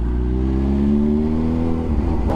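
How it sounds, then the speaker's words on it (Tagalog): Kawasaki Z H2 motorcycle engine revving close by, a loud sustained growl whose pitch climbs gradually and then drops off near the end, with no talking over it. "Na-miss ko yung tunog ng engay nitong ZH2."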